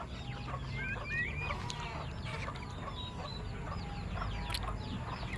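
Farmyard chickens cluck and chatter steadily at feeding time as grain and rice bran are scattered, many birds calling over one another in a constant busy din with no talking.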